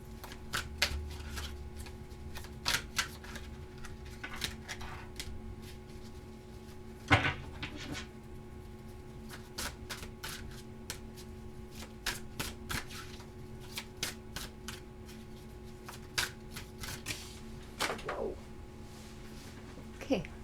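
Tarot cards shuffled and gathered up by hand, giving repeated soft riffling snaps and light clicks in irregular bursts, fairly close but quiet, over a faint steady hum with no talking.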